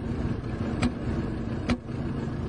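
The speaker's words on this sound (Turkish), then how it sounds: "Bu sesi duyuyorsan motor silindiri çekiyor demektir." Idling car engine with a cylinder fault, a low steady running hum broken by two sharp knocking ticks about a second apart, heard up close.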